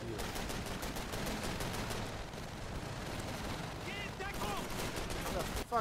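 Call of Duty 3 battle gunfire on an island, a dense, continuous rattle of rifle and machine-gun shots at moderate distance, with voices shouting over it.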